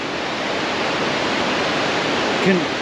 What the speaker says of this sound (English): because of the rapids going by